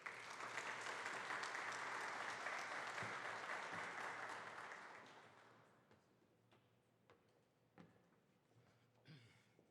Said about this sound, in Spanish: recíbanlo con un fuerte aplauso